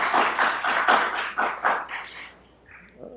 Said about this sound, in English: How about a round of applause for both of our candidates?